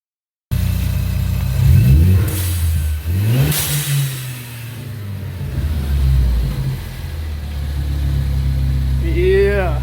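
A 2018 Ford Focus ST with a newly installed Turbosmart blow-off valve drives off, its engine revving up and down loudly from inside the car, with sweeping pitch rises between shifts and people speaking over it.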